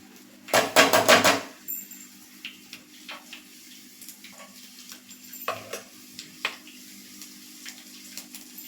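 Chopped garlic cloves are dropped into hot oil in a pan, a loud sizzling burst up front fading into quieter crackles and spoon stirring clinks for the rest, with no talking.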